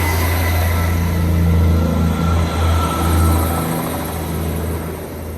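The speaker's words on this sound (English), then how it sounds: "We'll watch the train leave, as we do." A former Metro Class 158 diesel train pulls out of a station at night, its engine a steady low rumble close by that swells and then slowly fades as it departs.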